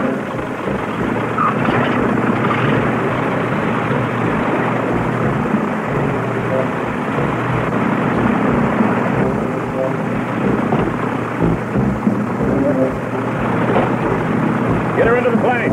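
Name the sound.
airplane engine running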